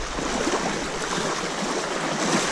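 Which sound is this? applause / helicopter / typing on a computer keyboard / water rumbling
water rumbling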